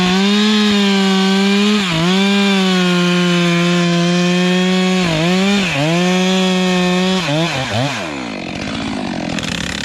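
Chainsaw cutting timber in a forest, a loud close engine whine that holds steady then bogs down and recovers several times as the chain bites into the wood, ending with the engine dropping off, no speech.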